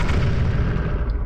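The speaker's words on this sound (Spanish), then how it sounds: "Disparos de largo alcance." A short burst of long-range gunfire from the strategy video game Epic 40000 Final Liberation, a loud, dense booming rumble that fades out within about a second.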